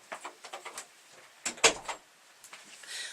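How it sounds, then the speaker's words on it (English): A house door is pushed shut with one firm thud, set among a few lighter clicks and knocks of the handle and latch, heard close and alone. "I will close the door."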